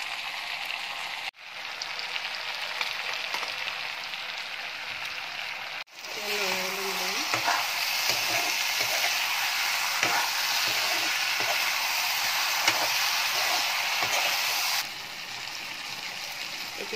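Ground mustard paste goes into a hot pan for a drumstick fish curry and sizzles steadily and loudly, with a sharp burst of frying as it lands, stirring scrapes, and a hiss that carries on and then eases.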